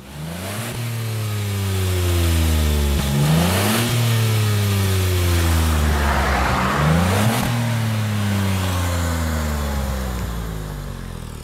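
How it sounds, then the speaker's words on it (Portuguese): Up close, the engine of a Hyundai HB20 Turbo car is blipped three times from idle, each rev rising quickly and sweeping back down before settling into a steady idle hum. "Dá umas aceleradinhas aí pra gente ouvir o barulho."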